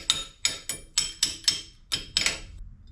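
A rubber mallet taps a dust shield onto a Lexus GX460 wheel hub, about eight sharp, close knocks in an uneven quick rhythm.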